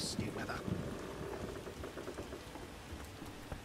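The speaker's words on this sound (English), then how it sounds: "Some serious rain. Nasty weather." Heavy rain in stormy weather within The Witcher video game, a steady dense hiss of falling drops with faint low rumbles, quiet and continuous.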